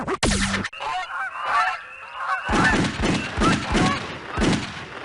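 A flock of geese honking as a game sound effect in You Don't Know Jack, opening with a sharp bang, then a loud, overlapping stream of close, rhythmic honks.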